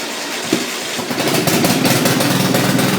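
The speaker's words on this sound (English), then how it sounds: "Let's give it some gas." Engine revving on a vehicle whose carburetor needs a rebuild kit, starting as a rough crank and rising into a loud, sustained roar up close.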